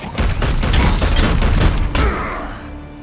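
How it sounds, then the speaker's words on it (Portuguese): Rapid bursts of machine gun fire from the Warhammer 40,000: Chaos Gate – Daemonhunters video game, dense overlapping shots for about two seconds, then a final report fading out. "Ainda bem que a gente tem o nosso personagem aqui com a metralhadora, né?"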